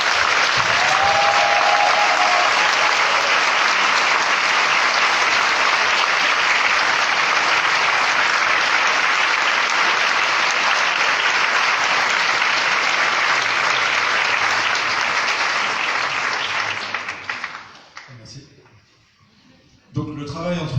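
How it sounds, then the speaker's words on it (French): Sustained, loud applause from a festival audience, clapping densely for about seventeen seconds before tapering off into near silence, followed by a brief final burst. "je vous propose quand même une nouvelle salle d'applaudissements pour Alexandre Astier et Jean-Marie Draghi"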